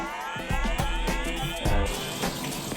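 Steady stream of warm water running from a tap, splashing continuously with a few brief louder gushes, close by and with no talking.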